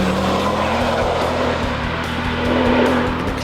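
A Porsche rally car races hard through hairpin corners on a forest stage, engine loud and close with a rising and falling rasp under a sustained tone and hints of tire squeal, with no talking.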